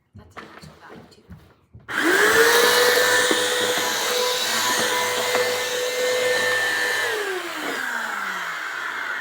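A Bissell vacuum cleaner switched on while cleaning stairs, a loud steady whine that starts abruptly after brief talk and runs on, dipping in pitch near the end as the motor winds down.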